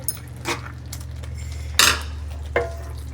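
Spoon scraping and clinking against a plate while spicy pongal is served at home, a few sharp metallic taps spaced apart over a steady low hum.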